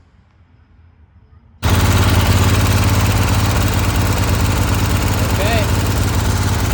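A carbureted replacement engine on a Scag Turf Tiger 2 mower starts up and runs at a loud, steady roar after a brief quiet start, with a short spoken word near the beginning.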